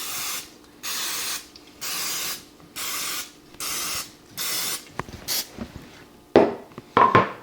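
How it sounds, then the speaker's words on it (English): Cooking spray hisses in about six short, evenly spaced bursts, close by, followed by a few clatters and knocks. "So we're going to spray these up really nice."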